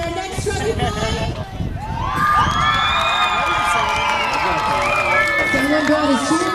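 A loud crowd at the 2013 Wembley demolition derby erupts into cheering, whoops and shouts that swell and hold steady, following a stretch of running noise and babble, with voices chattering throughout.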